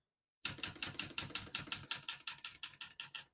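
Keystrokes on a 1970 Olivetti Lettera 32 portable manual typewriter strike in a steady, even rhythm of sharp, close clacks after a brief silence, with no voice.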